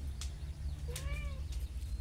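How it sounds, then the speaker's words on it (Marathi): A cat meows once in a kitchen, a clear rising-then-falling cry in the middle, with a low steady hum and some faint clatter around it. "ही मांजर"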